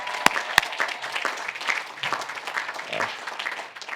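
At Menlo College's 2021 commencement, a graduation audience gives dense, continuous applause with scattered cheers, opening with a couple of sharp claps close by.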